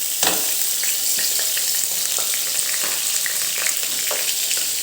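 Dried cowpeas sautéed in hot oil in a pan, a loud continuous sizzle and crackle with repeated spoon scrapes and taps against the pan, no voices.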